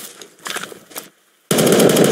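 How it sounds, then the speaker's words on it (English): Gunfire from the video game Roblox: a few scattered shots, a brief silence, then a sudden loud sustained burst of automatic fire, close and harsh. "He's shooting at me."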